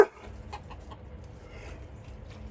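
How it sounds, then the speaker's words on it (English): A few faint, soft clucks from a backyard chicken come in a quick cluster, then trail off into quiet outdoor background hush. "That's my new favorite chicken right there."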